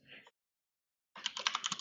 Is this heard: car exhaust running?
no